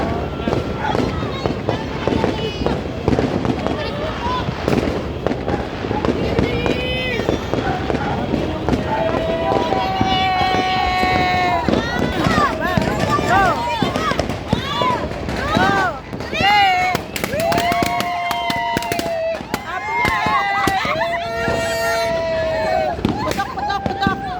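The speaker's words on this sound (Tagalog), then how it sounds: "Ang fireworks nila o." Continuous crackling and popping of New Year fireworks bursting all around, loud and dense, with whistling rockets rising and people talking over the din.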